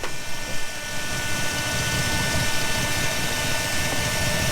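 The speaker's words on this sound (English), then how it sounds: "Got the car started again, got it running" A 1956 Buick Century engine idles steadily, a continuous broadband rumble with a faint high whine, running alone without any voices at a constant level.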